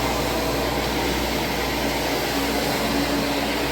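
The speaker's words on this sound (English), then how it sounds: "So I come in vacuum first," A vacuum cleaner runs steadily over apartment carpet, a loud, constant motor whine and airy rush with no breaks, close by and unaccompanied by voices.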